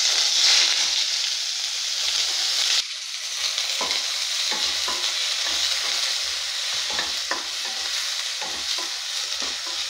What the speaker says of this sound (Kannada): ಎಣ್ಣೆ ಕಾಯ್ತಾ ಇದೆ. ಈಗ ಸಣ್ಣದಾಗಿ ಹೆಚ್ಚಿರೋ ಆನಿಯನ್ ಹಾಕ್ತಾಯಿದ್ದೀನಿ.